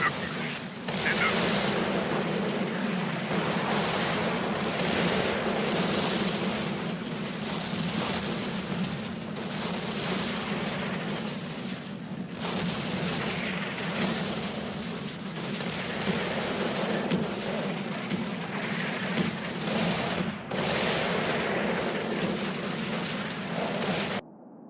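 Continuous rumbling battle din from Combat Mission: Fortress Italy as off-map and on-map artillery pounds the village of Casa Fanella, with dense overlapping booms and crackling gunfire sustained throughout, loud and unbroken.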